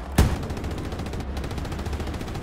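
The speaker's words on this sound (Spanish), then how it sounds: "Por aquí hay cañonazos, pero no sé qué es." A single loud cannon-like blast from the Hell Let Loose video game opens the clip, a sharp broadband boom followed by a short rumbling decay under steady low battlefield noise.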